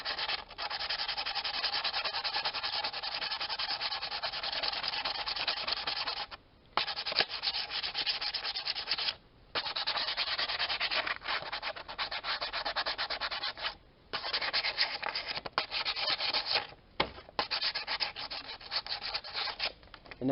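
Sandpaper rubs hard and fast across a metal switch plate for a Jeep Cherokee ash tray, roughing up its surface in continuous close scratchy strokes with a few brief pauses.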